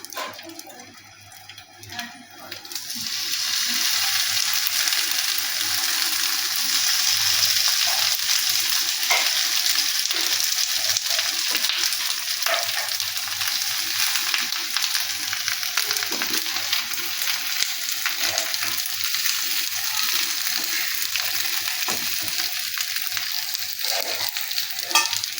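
Vetki fish paturi wrapped in banana leaf fries on a tawa brushed with mustard oil, giving a loud, steady sizzle that starts abruptly and holds without a break, with faint clinks now and then.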